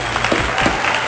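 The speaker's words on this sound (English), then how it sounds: "give this man a well-deserved standing ovation and round of applause" An audience gives a standing ovation, continuous loud applause and crowd noise, dense and steady throughout the short span, with faint voices mixed in.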